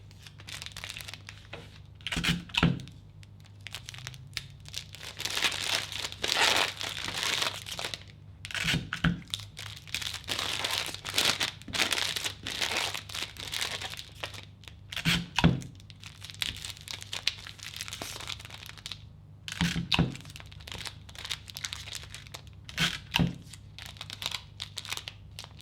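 Aluminium foil crinkles and rustles while sticky tape is pulled and pressed onto it to cover a cake board, an irregular run of close crackles with sharper crunches every few seconds.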